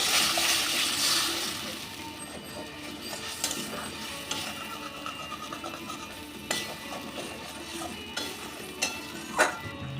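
Pomfret fish gravy in a pan with a little water just added gives a hissing sizzle that is strongest at first, then softens under repeated scraping and clicking strokes of a stirring spoon.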